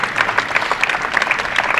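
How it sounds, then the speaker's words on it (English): Applause at an intercollegiate team championship for the teams knocked out of the round: dense, steady clapping from a crowd, moderately loud throughout. "nice round of applause for the teams that get knocked out of this round"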